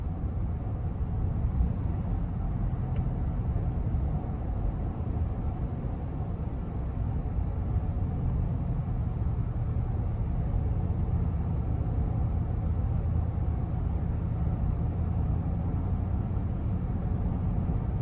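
Cabin of a 2021 GMC Yukon SLE while driving, a steady low road and engine hum with faint tire noise, continuous and even with no talking.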